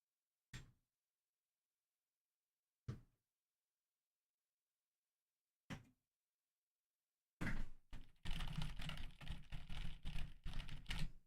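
A computer keyboard: three separate soft thumps a few seconds apart, then a dense burst of rapid, close key clatter for several seconds.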